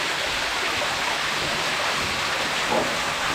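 Water pouring down steadily inside a flooded mine, a continuous broadband rush and splash that stays fairly loud and even throughout, with no voices.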